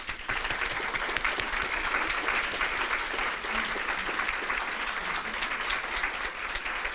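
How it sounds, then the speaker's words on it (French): Audience at a university ceremony honouring women applauds steadily, dense continuous clapping filling the room without pause for several seconds. "On l'applaudit."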